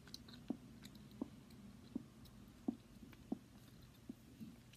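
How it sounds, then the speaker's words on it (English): Bubble gum chewed with slow, regular wet clicks of the jaw, about seven distinct chomps spaced roughly a second apart, close to the microphone and alone over faint background hiss. "I'm gonna chew on this side now."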